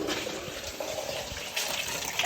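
Coolant drains steadily from a removed bottom radiator hose on an RB30 turbo R31 Skyline, a faint, continuous trickling and splashing of liquid heard alone.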